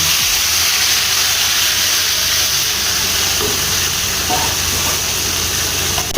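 Cumin seeds and freshly ground spices hit half a cup of hot oil, giving a loud, steady sizzling hiss with faint crackles, close up and continuous.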